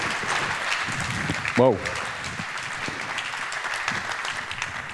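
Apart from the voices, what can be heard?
audience applause for a conference talk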